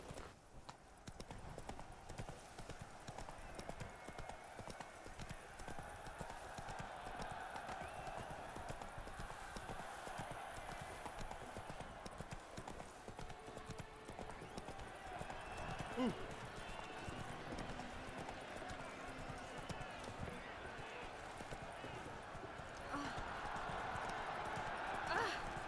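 In The Witcher 3, horse hooves gallop in a fast, steady rhythm throughout, fairly faint, as someone talks now and then over the running hoofbeats and the background game audio.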